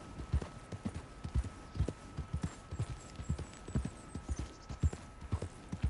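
A horse-drawn wagon rolls along in the Red Dead Redemption 2 video game, with a soft, steady clip-clop of hooves and faint wheel rumble in the background.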